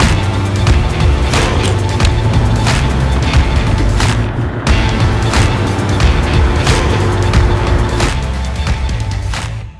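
Steady low engine rumble and road roar from a vehicle driving along a road, continuous and close throughout, with a few faint clicks and rattles inside the cab.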